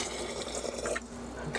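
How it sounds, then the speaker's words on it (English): White distilled vinegar poured from a measuring cup into a pickling mix for pickled eggs: a short, close liquid pour with a soft trickling splash, no voices. "I'm gonna take my actual vinegar, just white distilled vinegar. I'm gonna start out with 1 cup and add that to the mix."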